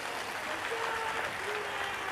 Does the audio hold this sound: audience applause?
yes